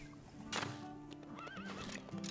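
A horse neighs in the survival game Rust, giving a sharp whinny followed by a wavering call. The sounds carry over a busy ambient game backdrop with faint hoof-like clops.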